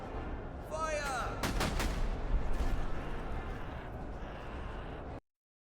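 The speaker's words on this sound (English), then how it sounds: "Artillery incoming, it seems." Heavy artillery booms roll out in the video game Master of Command: several deep blasts in close succession, with a loud rumbling barrage that lingers before cutting off abruptly.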